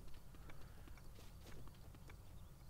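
Horse hooves clip-clopping on the ground in a Zelda video game, a steady run of soft thuds over about three seconds amid busy game ambience.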